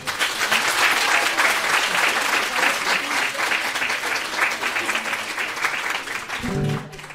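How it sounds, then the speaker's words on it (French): Sustained audience applause at a French live music performance, dense and steady for about seven seconds before tapering at the end as a voice briefly comes in. "Je voudrais déjà un applaudissement pour Mathias, s'il vous plaît."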